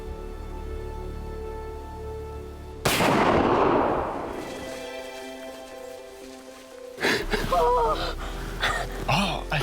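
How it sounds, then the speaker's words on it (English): A single loud hunting rifle shot cracks out at close range on an Illinois hunting property, its blast decaying over a couple of seconds before excited voices break in afterward. "Whenever you're ready, shoot them."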